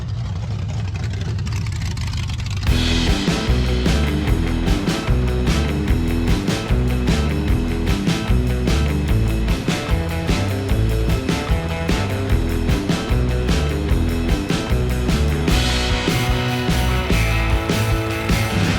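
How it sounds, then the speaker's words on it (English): A 1946 Chevy rat rod, garage built, drives on the road with a loud, steady rumbling engine and strong low-frequency drone, sustained throughout after a quieter opening, with no talking. "Nice little test drive for the first time really out on the road."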